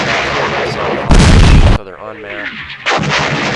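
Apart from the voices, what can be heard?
mortar fire in the video game Campaign Series West Front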